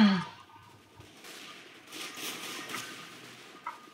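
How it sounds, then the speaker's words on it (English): Gunfire in the video game CS:GO, a distant, muffled burst of shots under a faint game background, fairly quiet throughout. "Whoa, what was that shooting?"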